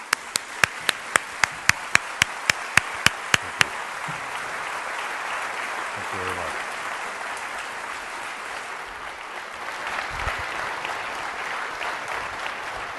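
Sharp isolated claps ring out at the start before warm sustained audience applause fills a City Opera House stage event welcoming two speakers, steady and full for the rest of the stretch.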